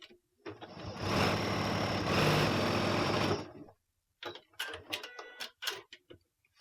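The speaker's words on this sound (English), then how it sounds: "I'm going to stitch about 1/4 inch away from the raw edges." A sewing machine stitches fabric on a freezer-paper foundation in one loud, steady run of about three seconds, followed by a few short bursts and clicks.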